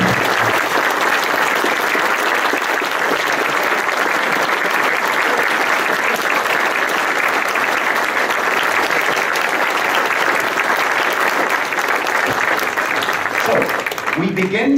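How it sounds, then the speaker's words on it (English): Standing ovation from an audience at a radio memories event, a dense, steady wash of many hands clapping at close range for the full length, tapering slightly right at the end. "May we ask you, the audience, to stand up and to give Rob a big applause"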